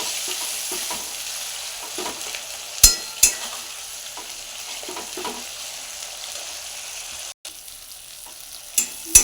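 Ginger, garlic, green chilli, cashew and melon-seed pastes with turmeric fry in a pan with a steady low sizzle, broken by a few sharp scrapes and clinks as the spoon stirs.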